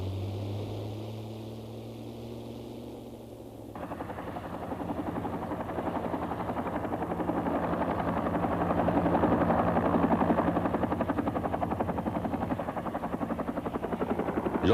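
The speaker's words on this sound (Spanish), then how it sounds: "Los Bell AH-1 Cobra llegaron por primera vez a Vietnam como helicópteros artillados" A Bell AH-1 Cobra attack helicopter flies with continuous rotor chatter and turbine whine that rise in after a few seconds of a different droning tone, sustained and moderately loud.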